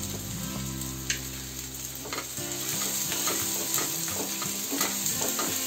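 Potato bharta masala with tomato and chilli fries in a pan, sizzling steadily with intermittent scraping stirs and clinks of a spoon.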